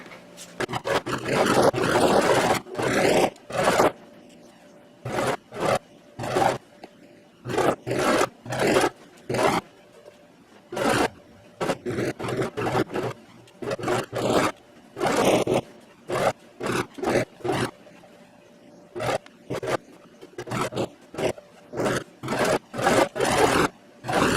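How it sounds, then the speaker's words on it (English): A sewing machine runs in repeated stop-start bursts as it stitches around a homemade denim jeans purse, loud and close with brief pauses between runs. "Now take that to your sewing machine and sew all the way around."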